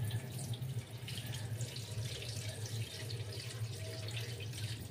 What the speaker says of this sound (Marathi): बघू शकता कसं पाणी खराब पाणी निघून जात आहे.